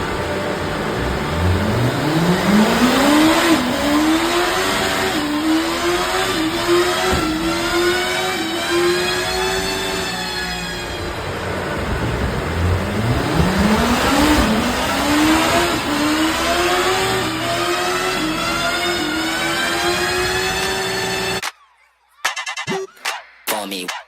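A 2008 Kawasaki ZX14 motorcycle on a dyno, loud and close, revving hard in two long pulls that climb through the gears to a screaming top end before cutting off abruptly.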